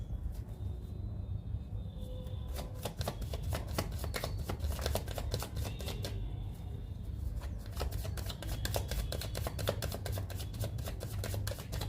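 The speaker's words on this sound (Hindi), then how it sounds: "कार्ड्स निकालती हूँ, रुकिए।" Tarot cards being shuffled and drawn, a rapid run of crisp riffling snaps and flicks, close and fairly quiet, coming in bursts across the whole stretch without talk.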